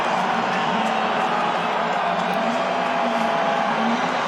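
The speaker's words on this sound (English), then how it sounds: "The crowd here on homecoming to its feet." A homecoming college football crowd at Wyoming rises to its feet, a dense, steady roar of cheering and yelling that fills the stadium at an even level throughout.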